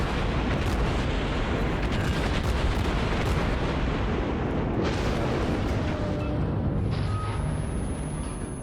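Naval guns in World of Warships fire at a cruiser, a dense, continuous roar of heavy artillery and explosions that stays loud throughout with no pauses between shots.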